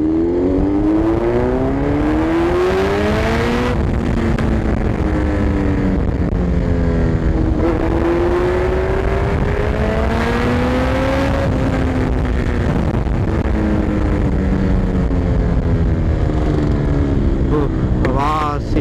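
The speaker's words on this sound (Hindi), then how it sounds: "सीरियसली यार ये बाइक काफी अच्छी है, पटाखे फोड़ रही है यार।" A Kawasaki Z900 motorcycle engine revs loudly and continuously, its pitch rising and falling through repeated throttle blips, with sharp exhaust pops and crackles breaking in several times, recorded close up.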